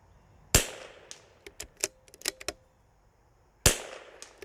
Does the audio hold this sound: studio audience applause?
no